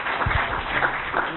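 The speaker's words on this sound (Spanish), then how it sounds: "Un aplauso" Brief scattered clapping from a small group at an anti-bullying workshop, a few distinct claps then a thin patter with a voice faintly underneath.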